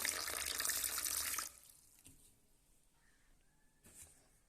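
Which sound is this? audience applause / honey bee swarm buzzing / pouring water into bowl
pouring water into bowl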